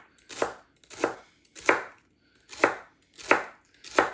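A knife chops celery into thin chunks on a cutting board, six crisp, evenly spaced cuts close by with quiet pauses between them.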